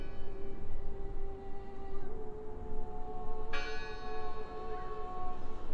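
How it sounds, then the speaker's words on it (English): A church bell tolls in the Draugen video game, its long ringing tones sustained and overlapping, with a second strike adding a bright new layer partway through over a steady low rumble of ambience. "I heard the bell!"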